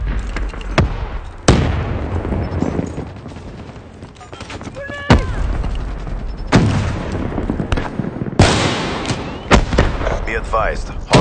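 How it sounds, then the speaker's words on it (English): Grenade blasts and gunfire in Call of Duty Black Ops 3 multiplayer, several sharp booming explosions spaced through the clip amid scattered shots, loud and close, with voices talking over the action. "Grenade!"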